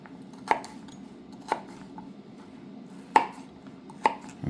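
A sharp kitchen knife with a pakkawood handle chops onions on a board in four distinct, close thuds spaced about a second apart, with quiet gaps between them.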